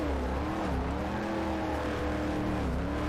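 A custom Corvette engine in a Corvette 50th Anniversary racing game roars continuously at high revs, a loud, steady, buzzing drone with slight pitch rises and dips and no pauses.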